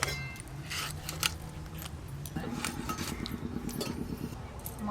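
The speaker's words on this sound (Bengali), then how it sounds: "পেটিটা মাঝখান থেকে কেটে নেব।" A knife saws through the fatty belly of a large four-kilogram black carp, making soft scraping and tapping strokes with metallic clinks against a steady background hum.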